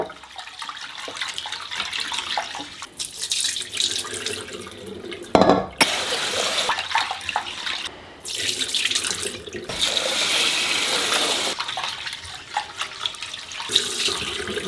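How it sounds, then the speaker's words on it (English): Running tap water rushes steadily into a kitchen sink as starchy rinse water is washed and drained, with a few abrupt breaks and splashy bursts where the flow is interrupted, fairly close and continuous with no talking. "drain out that starchy water, and then repeat that about 3 or 4 times until the water starts to look less cloudy."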